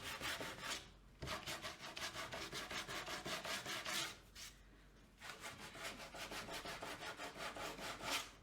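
Sandpaper rubs back and forth across a painted wooden porch sign in quick, rhythmic, close strokes, pausing twice briefly. A voice murmurs a single word.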